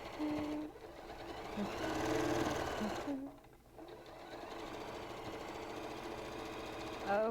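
A sewing machine stitching a quilt, a steady fast mechanical whir and needle chatter running close up, pausing briefly midway before resuming, with a voice speaking over it.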